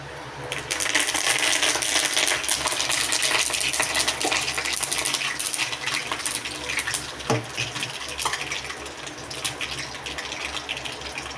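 Mustard and fenugreek seeds followed by curry leaves spluttering in hot oil for a Tamil puli kuzhambu, a loud, dense crackling sizzle with scattered sharp pops running steadily throughout, close and without talk.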